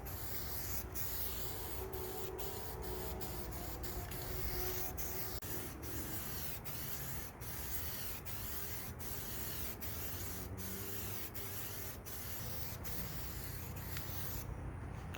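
Dupli-Color flat black spray paint hisses from a can onto old plastic car door panels in a quiet, steady stream, broken by a run of short sharp ticks.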